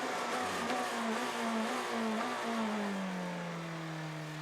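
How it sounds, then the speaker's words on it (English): A BMW M Team RLL race car engine at the 2023 WeatherTech Championship race at Indianapolis, heard as a sustained droning note that wavers and then slides downward, steady and moderately loud with no voices. "the engine note you could hear in the back of the sound stage there, with Conor De Filippi holding on to 3rd pos"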